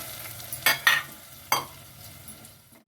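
Curd poured over tempered sevai in a pan on a switched-off stove, then stirred in with a spoon, making a few sharp scraping clinks against the pan and soft wet mixing sounds, close and moderately loud.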